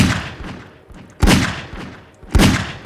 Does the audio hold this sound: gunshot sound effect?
yes